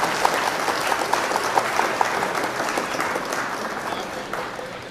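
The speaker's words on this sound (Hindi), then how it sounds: "एक मर्तबा जोरदार तालियां बजाकर इनका इस्तकबाल करें।" Loud applause from the audience at an all-India mushaira inauguration and honour ceremony in Khatauli, a thick sustained wash of clapping with a few sharper claps, faint voices mixed in underneath.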